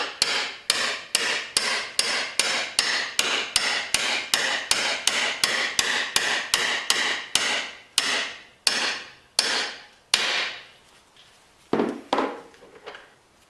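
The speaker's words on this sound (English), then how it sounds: "I'm going to tap the shaft back down into the bearing." Steady hammer taps driving a shaft down into the bearing of a Fleming Gray B2 skate sharpener, about twenty sharp even strikes close up, spacing out near the end before a couple of last, duller knocks.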